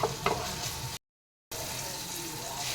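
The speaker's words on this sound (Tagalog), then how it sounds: "Itong bacon na to, i-ano natin natin to, i-golden brown natin siya hanggang sa mag-crispy" Bacon fries in a pan until golden and crispy, a loud, close, continuous sizzle and crackle that drops out briefly before carrying on.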